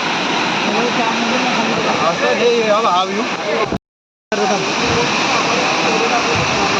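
A waterfall roars steadily nearby at a mountain pass, a dense continuous wash broken by a brief silent gap; voices are faintly audible beneath the noise.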